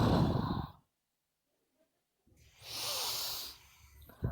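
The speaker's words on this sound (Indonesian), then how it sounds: "Coba tarik napas." A person on the receiving end of a calming breathing exercise draws a slow, deep breath in through the nose, a soft airy hiss lasting about a second after a quiet pause, faint and close.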